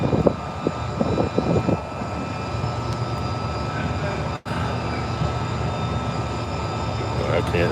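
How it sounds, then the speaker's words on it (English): An airplane passing overhead, a steady broad engine roar lasting throughout, heard outdoors near a spillway livestream setting, with a brief dropout midway and some faint voices early on. "Oh, yeah, airplane."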